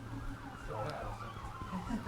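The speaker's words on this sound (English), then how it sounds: "Yeah, sirens passing." Emergency vehicle siren passing by at moderate distance, a faint wavering wail under steady background hum and a lecturer's pause, with low traffic rumble throughout.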